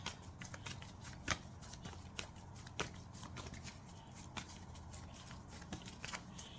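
A deck of tarot cards is shuffled close by in a quiet room, with soft repeated riffling and flicking bursts and sharper slaps at irregular intervals, faint overall and without talk.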